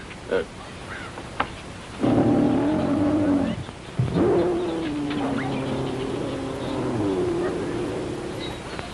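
Deep, rumbling roars from hungry lions rise and hold, one after another, with the low growling sounding fairly close and loud.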